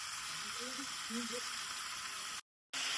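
Fried vegetables and a fish head sautéing in a pan sizzle with a steady, close, fairly quiet crackle, plus a few brief scraping sounds from stirring and a short dropout near the end.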